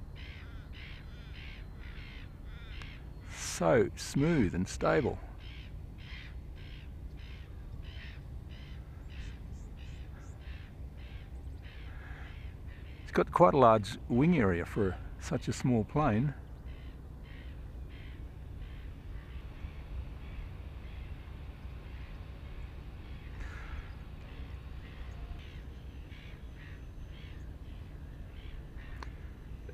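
Seagulls calling while chasing a small ZOHD Drift model plane in flight, two bursts of loud harsh squawks against steady background noise, with someone talking over much of it.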